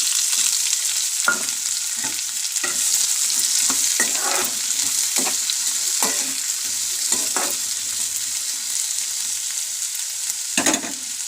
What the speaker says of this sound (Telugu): ఉల్లిపాయ పచ్చిమిర్చి వేస్తున్నాను.